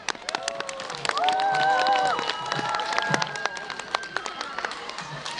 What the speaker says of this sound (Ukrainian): Я хочу, щоб ми оплесками їх привітали за цю красуню новорічну